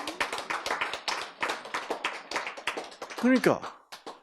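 Rhythmic unison clapping from a church audience at a sermon, a quick steady beat of sharp claps carrying through the clip, with a voice briefly speaking over it near the end.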